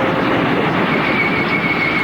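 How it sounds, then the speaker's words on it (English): A fully loaded freight train roars past at close range, a loud continuous rumble of wheels on rail with a thin high squeal riding over it, during a crash into a truck. "The fully loaded freight train plows through the truck"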